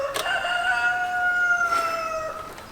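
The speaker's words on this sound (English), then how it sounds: "much louder, we hear noise, ruckus, that rooster" A rooster crows once in a long, drawn-out call, fairly close and clear over a soft outdoor background.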